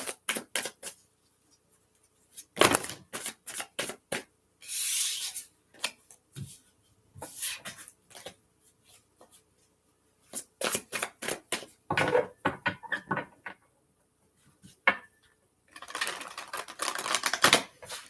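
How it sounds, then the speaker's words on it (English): Tarot cards are shuffled by hand in brisk, papery bursts of riffling and slapping, close and fairly soft, repeated in several rounds with short pauses between. "I'm going to give it a couple good shuffles."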